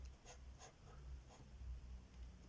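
A felt-tip marker drags across thick, grainy paper in a series of soft, scratchy strokes, about four or five evenly spaced, close up and quiet, with no talking.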